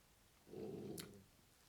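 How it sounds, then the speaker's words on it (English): A dog gives one low growl, soft and brief, lasting under a second against a quiet room. "Excuse my terrible dog."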